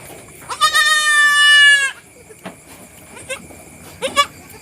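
A Boer cross goat kid lets out one long, loud, wavering bleat up close, then a few short, fainter bleats follow after a pause.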